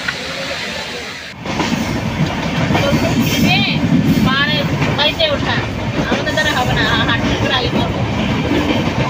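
The Kamrup Express rolls past up close, a loud, continuous rumble of wheels and carriages with rhythmic rattling and occasional metallic squeals, steady from start to finish after a brief quieter moment at the opening.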